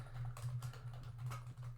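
Names being typed on a computer keyboard in Excel, a faint quick run of close key clicks over a low steady hum.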